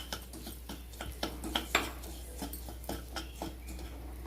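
A spoon stirs semolina roasting in ghee in a metal pan, giving a steady run of close, light scraping clicks and taps over a low background hum.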